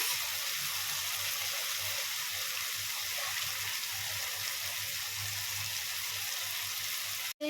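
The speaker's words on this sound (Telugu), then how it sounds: "ఒక గ్లాసు బొంబాయి రవ్వకి నాలుగు గ్లాసుల నీళ్లు పోసుకుందాం" Water is poured into a pan for semolina upma, four glasses for each glass of semolina. It makes a steady, rushing splash with a sizzling hiss, continuous and close, then it abruptly stops.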